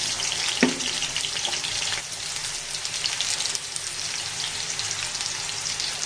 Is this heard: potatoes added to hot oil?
yes